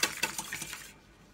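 Chocolate cake batter with eggs being mixed in a bowl, a brief run of quick clinking, scraping strokes for under a second, close and fairly faint, then near silence.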